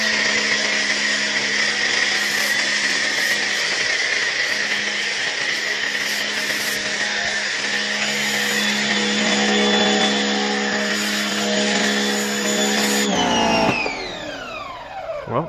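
A Giraffe Tools Grandfalls G20 wall-mounted pressure washer runs steadily with a loud, continuous motor drone and spray hiss while thick soap foam goes onto a car. Near the end the pitch sweeps down as the machine cuts off.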